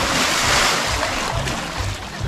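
A person cannonballs into water from a height of about 3.8 metres in Tulum, Mexico, producing a loud, close, continuous rush of splashing water mixed with wind buffeting the microphone.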